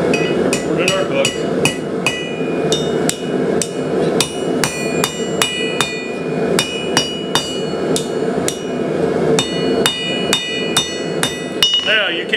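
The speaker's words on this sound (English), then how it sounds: "Next heat, we'll forge the hook." A blacksmith hammers a hot iron J hook on the anvil horn, with sharp ringing metallic strikes in a quick, steady rhythm, close and loud, with brief gaps between bursts.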